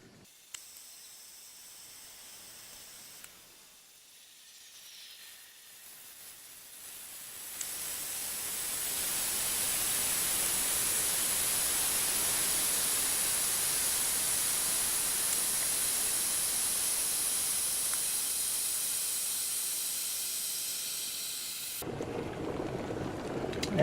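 A 1200W stainless steel electric kettle holding almost two quarts of water heats from quiet ticking into a loud, steady rushing hiss of boiling water, which stops abruptly at the end.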